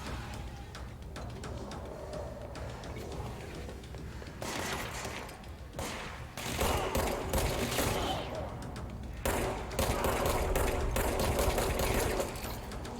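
Rapid automatic gunfire rattles in bursts during combat in the video game Control, growing louder and denser in the second half, with short gaps between volleys.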